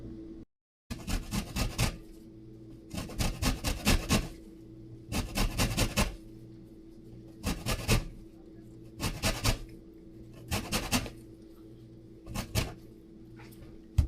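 Citrus fruit is zested by hand for homemade soda, giving repeated bursts of dry rasping scrapes in rhythmic clusters separated by brief pauses, close and fairly loud.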